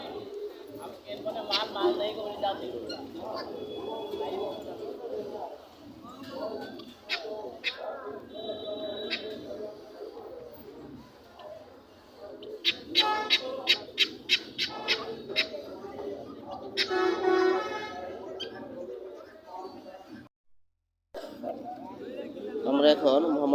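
Pigeons coo and flutter among caged birds at a busy pigeon market, their calls scattered under steady nearby talk and crowd noise.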